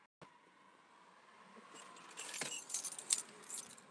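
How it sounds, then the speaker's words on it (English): Keys jangling close by while someone gets ready for a trip to the beach; quiet at first, then a run of bright, loud metallic jingles in the second half. "I need keys"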